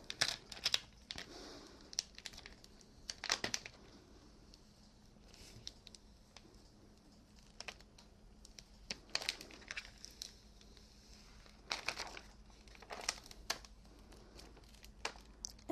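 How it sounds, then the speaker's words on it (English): Transfer tape peeled slowly off sign vinyl for a door sign, faint close crinkling and tearing crackles in scattered bursts with quiet gaps between, no talking. "So now I'm just holding back on the string while I peel this tape up."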